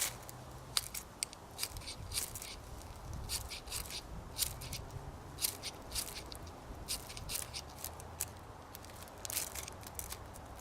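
A ferro rod scraped lengthwise throws sparks onto a Zip fire starter outdoors, a string of sharp, close raspy scrapes repeating irregularly over faint background noise.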